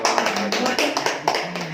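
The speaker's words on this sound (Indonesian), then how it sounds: "Tepuk tangan dong." Audience clapping during a talk show segment, a quick irregular run of claps, close and fairly loud, with faint voices underneath.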